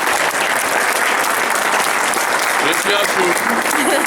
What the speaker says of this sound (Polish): Także brawa dla nich.